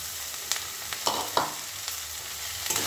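Soaked, drained sabudana tipped into a hot pan for sabudana pulao and stirred, with a low background sizzle and a handful of distinct scraping stirs spaced irregularly, with no voices.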